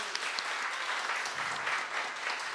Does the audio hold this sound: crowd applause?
yes